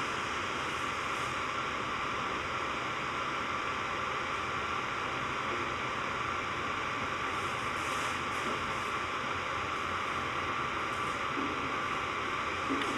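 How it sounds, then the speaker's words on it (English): An electric fan runs steadily nearby, producing a constant broadband whoosh like white noise with a faint steady hum, alone and unchanging for the whole stretch. "enjoying this fan as a white noise generator"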